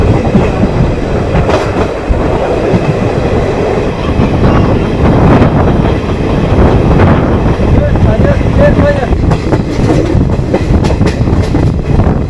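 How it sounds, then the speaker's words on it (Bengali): A passenger train pulls out of Khagra station after a two-minute halt, its loud rumble and rattling wheels filling the ride from close on board, with a few sharper clanks and squeals along the way. "যখন ট্রেনটা এসে পৌঁছালো 2 মিনিটের হল্ট নিয়ে খাগড়া থেকে ছেড়ে এবার আজিমগঞ্জ জিয়াগঞ্জ।"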